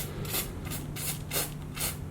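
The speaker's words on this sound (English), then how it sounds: "I'm going to be careful and spray over here to see how it's spraying, okay?" Aerosol spray paint hisses in five short bursts onto a beginner's painting from about 15 to 18 inches away, each spurt a soft breathy rush separated by brief pauses, close and fairly quiet with no talking.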